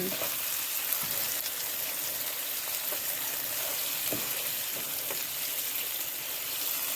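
Big chunks of lamb sizzle loudly and steadily in a pan with tomato paste, garlic and onion after being flipped, with a few faint scrapes under the frying.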